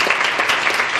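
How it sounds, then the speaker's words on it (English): A brief burst of audience applause at an emotional learning forum, a round of clapping for the event organizer from a room of attendees, close and steady. "She's the one that should get the round of applause."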